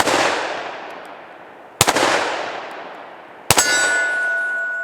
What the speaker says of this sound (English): Let's do some shooting around here. Let's hit our hostage popper.